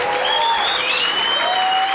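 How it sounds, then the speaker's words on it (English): A studio audience applauds a talk-show guest, a dense, steady wash of clapping that runs loud and close for the whole two seconds, with faint tonal whistles drifting over the top. "ladies and gentlemen, a round of applause to Thomas Hartmann. Give him a hand."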